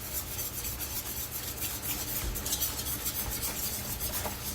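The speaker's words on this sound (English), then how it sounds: "Since I'm using a stainless steel pan, I can use my wire whisk" A wire whisk stirs pectin in a stainless steel pan for blackberry jam, making a steady scraping, rasping swirl that continues close and unbroken, with no talking.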